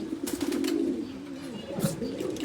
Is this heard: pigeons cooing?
yes